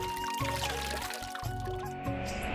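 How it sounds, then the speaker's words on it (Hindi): Water filtered through cloth pours steadily into a clay pot, a continuous splashing fill with a faint rising tone, close by and lasting the whole moment. "उसने कपड़े से पानी को छानकर घड़े में भरा"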